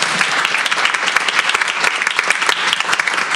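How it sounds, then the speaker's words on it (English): Enthusiastic applause from an audience at a school board meeting, many hands clapping in a loud, dense, close wash that holds steady throughout. "One more round of applause."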